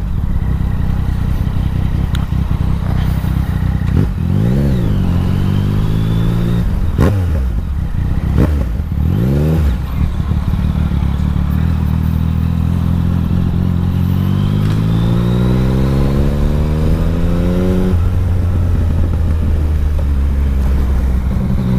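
A Yamaha Tracer 900 GT motorcycle on a test ride, its engine loud and close, revving hard in several rising and falling sweeps before settling into a long climbing pull, with no talking over it.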